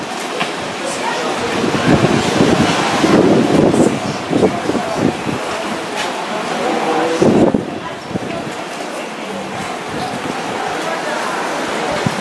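Wind blows and buffets the microphone at an outdoor Catholic mass, the rushing noise swelling in gusts while a person speaks throughout.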